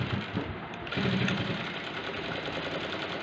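A sewing machine runs steadily, double stitching a cross-cut blouse, with a continuous mechanical whir that dips briefly and then resumes at an even level.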